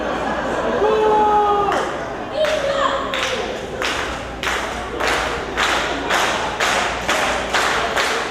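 Wrestling crowd at a live indoor event clapping in a steady rhythmic beat, growing louder and more regular after a noisy stretch of cheering and voices near the start.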